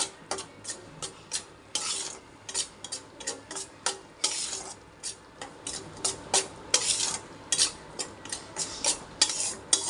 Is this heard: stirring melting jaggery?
yes